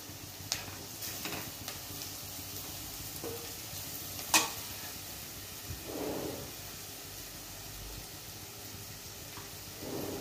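Coarse chili and spices are added to a sizzling pan on a home stove, giving a steady soft frying hiss with a few sharp ticks and a brief stirring scrape, faint and alone.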